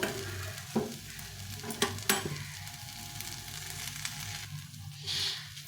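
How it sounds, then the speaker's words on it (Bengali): Milk simmering in a pan with onion, green chili and tomato, a steady low sizzle with a few sharp stirring scrapes, close and moderately loud, no talking. "আমি এভাবে দুধটাকে ভালো করে করে নেব"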